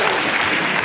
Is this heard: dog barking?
no